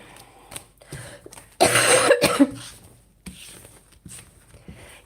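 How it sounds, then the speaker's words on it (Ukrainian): A woman coughs in a quick burst of several harsh coughs, loud and close, followed by a softer throat-clearing sound amid quiet room noise. "можу час від часу покашлювати, прошу вибачення"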